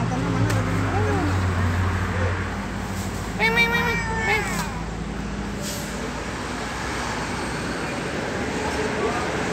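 A cat gives a drawn-out, wavering meow over steady traffic rumble outdoors in front of a mosque, with a shorter second cry just after; moderately close.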